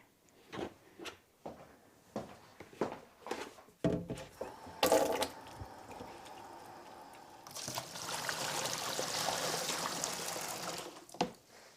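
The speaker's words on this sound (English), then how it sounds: "I'm going to use another smaller bucket to fill the larger buckets with water" Water poured from a small bucket into a larger bucket: a series of splashy sloshes and drips, then a steady, louder rushing pour lasting several seconds before a final splash.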